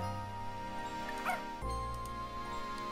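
Dog barking and yipping in the video game Professor Layton and the Curious Village, short sharp calls over a steady electronic music background.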